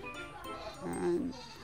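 On a goat farm, a goat gives one short, wavering bleat partway through, heard under someone speaking.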